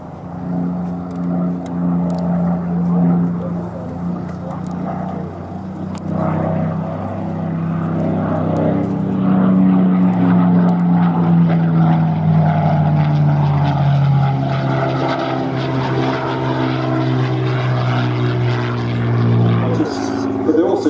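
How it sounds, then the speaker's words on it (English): A Supermarine Spitfire propeller fighter in 74 Squadron colours flies at the Duxford air display, its piston engine droning loud and steady with a shifting pitch as it passes, while a commentator speaks over the noise. "Currently in the colours of a 74 Squadron Spitfire, flown by Squadron Leader Tony Reeves, Distinguished Flying Cross"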